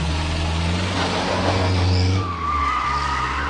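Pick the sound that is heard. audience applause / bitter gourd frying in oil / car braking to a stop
car braking to a stop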